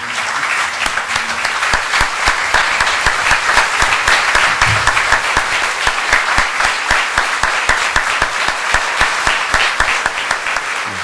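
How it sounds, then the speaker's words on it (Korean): A standing church congregation at a pastor's retirement service applauds steadily and loudly, a dense, even wash of clapping that runs without a break and with no voices over it. "박수로 맞이해 주시면 감사하겠습니다."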